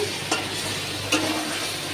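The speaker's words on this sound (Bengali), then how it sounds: "মশলা ফসলা দিয়ে কষাচ্ছে" Spice paste for egg curry fries in a pan with a dense, continuous sizzle, punctuated by a couple of brief scraping stirs, close and even in level throughout.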